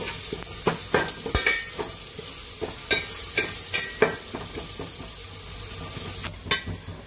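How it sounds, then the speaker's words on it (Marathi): Ginger garlic paste frying with onion in a pan for chicken curry, a constant sizzle broken by frequent sharp scrapes and knocks of a stirring spoon, close and fairly loud, with no voices. "ह्याच्यात आपण वाटलेली आलं लसूण पेस्ट टाकूया, ती पण चांगली फ्राय करून घेऊया"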